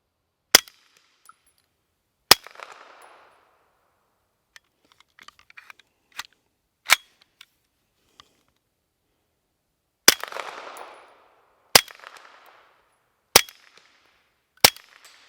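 Several sharp, spaced rifle shots from a Trailblazer Pivot bullpup firing Federal American Eagle ammunition at a 4-inch steel plate 100 yards away, each crack followed by a brief ring or echo, with quiet gaps between shots.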